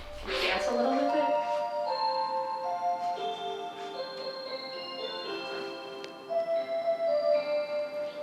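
A clock in a kitchen plays a gentle melodic chime sequence marking the hour, with soft bell-like notes that continue steadily over a faint background, and a voice briefly heard at the start.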